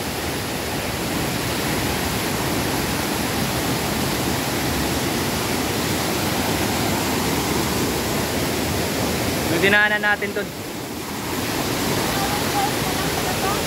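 The roar of Mother Falls in San Luis, Aurora, is a loud, unbroken wash of falling water. A short spoken remark cuts through it partway along.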